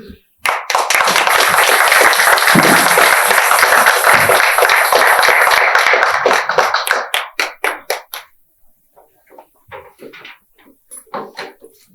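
An audience at a book launch applauds the author, with loud, dense clapping sustained for several seconds before breaking into scattered claps and fading into sparse taps.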